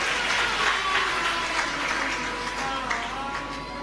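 An audience at a Shiv Mahapuran katha applauds steadily, with a dense wash of clapping that fades slightly toward the end.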